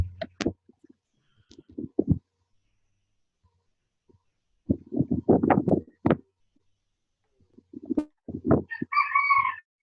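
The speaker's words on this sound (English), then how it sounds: "the rooster again" A rooster crows outdoors near a classroom, several hoarse, ragged bursts separated by pauses, fairly close and loud with no talk over it.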